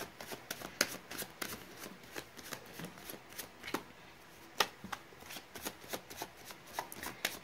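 A deck of tarot cards is shuffled close up, with a rapid, continuous patter of crisp riffles and slaps that runs steadily throughout without any speech.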